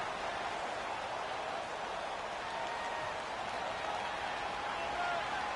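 Stadium crowd roaring at a football game as Atlanta Falcons visit New England Patriots, a steady, broad wash of cheering and noise that holds at an even level throughout without letup.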